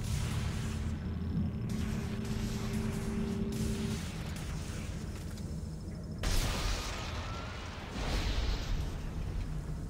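Heavy rumbling blasts and booms from the video game Dead Space 2 roll continuously, with sharper explosive bursts punching through midway and near the end, dense and loud with no talking.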